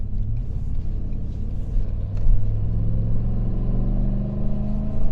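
A Ford 7.3 Godzilla V8 pickup tows a trailer up a steep grade, its engine a steady, loud, low droning rumble under load that swells slightly as it climbs, with no talk.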